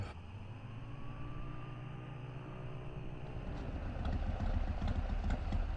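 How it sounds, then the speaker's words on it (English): A truck engine in the Kentucky Route Zero video game gives off a low, steady rumble at modest volume, growing slightly rougher and louder toward the end. "the truck's engine sputters and dies as Conway guides it carefully off the road next to a fallen tree"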